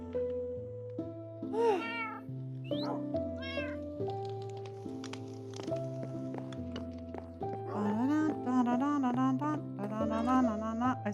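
A Minecraft cat meows several times in rising, wavering calls, with a cluster of quicker meows toward the end, layered over steady background game music.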